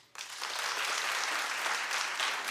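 Studio audience applause bursts in suddenly and carries on evenly, a thick wash of many hands clapping at once, moderately loud and sustained to the end.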